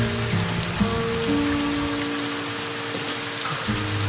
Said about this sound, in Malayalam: പെട്ടെന്നൊരു മഴയില്ലേ